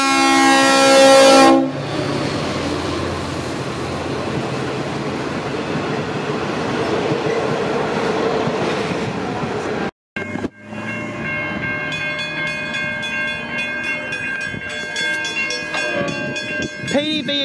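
A V/Line N class locomotive hauling a passenger train through South Geelong, opening with a sharp horn blast, then a loud, sustained rumble and clatter of wheels passing close by, with a brief drop before the roar resumes and tonal squeals rise.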